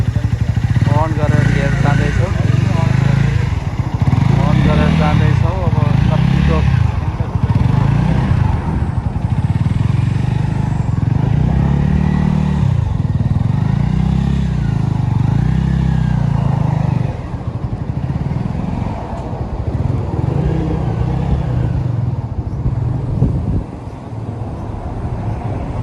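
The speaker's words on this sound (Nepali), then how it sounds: "आज यो बाइक चाहिँ अन गरेर लिएर जाँदैछु" A motorcycle is started and ridden away, its engine loud and close with repeated revving swells and a throbbing low drone that fades slightly toward the end, while a person talks over it.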